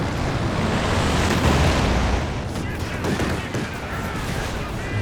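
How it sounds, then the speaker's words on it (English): Company of Heroes 2 battle: gunfire and explosions destroy a German flak panzer, a dense, continuous roar of shots and blasts with a broad rumbling wash throughout. "And there goes the flak panzer."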